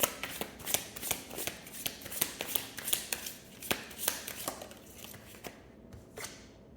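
Tarot cards are shuffled by hand in a quick run of crisp riffling snaps and flicks, close and steady before thinning out near the end, with no voices.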